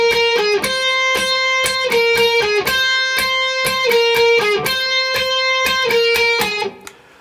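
An electric guitar plays the repeating intro riff from a song, bright picked notes in a steady looping pattern, clear and close, ringing out at the end.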